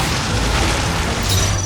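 A dense, roaring magical fire explosion from the Raging fire spell in Metaphor: ReFantazio fills the whole span, loud and sustained with a heavy rumbling low end and no let-up.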